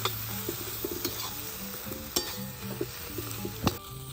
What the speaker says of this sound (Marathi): आणि मस्त तळून घेऊ चटणी.